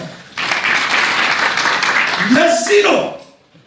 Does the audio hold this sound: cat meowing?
no